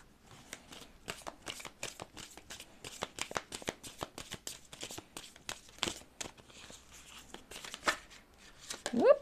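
Oracle cards shuffled by hand, a quick run of crisp riffling snaps and slides at close range, steady through the stretch, with no voices.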